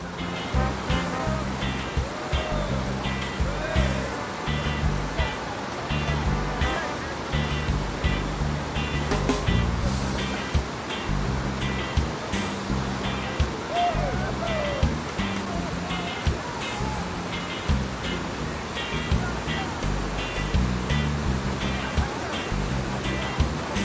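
Rushing water of the Black River rapids at Watertown, with rafters paddling through, a continuous loud roar of churning whitewater in which voices are faintly heard now and then.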